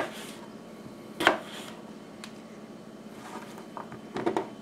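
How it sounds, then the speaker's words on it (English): A knife slicing sectioned potatoes on a cutting board for frying, a few soft, separate cuts with one sharper chop early and a quick cluster near the end, close and fairly quiet. "Section it just like this, so that way when you slice it you still get these small easy to fry pieces."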